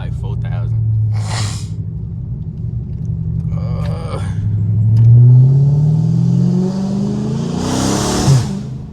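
A straight-piped 2022 widebody Dodge Charger roars loudly up through a second-gear pull, its deep exhaust rumble climbing in pitch before easing off near the end, with someone talking over it.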